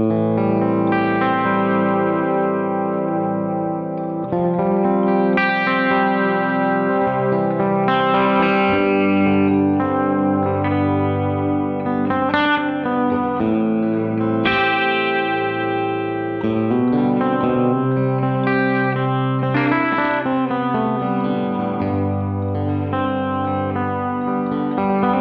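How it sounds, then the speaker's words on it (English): An electric guitar played through Cali and Deco effect pedals gives a lush, reverberant wash of chords and ringing notes, loud and continuous, with no talk over it. "Couple that with the Cali, and you get this just beautiful, beautiful wash."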